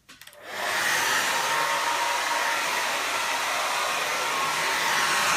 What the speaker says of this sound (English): Now I'm just going to take a hairdryer.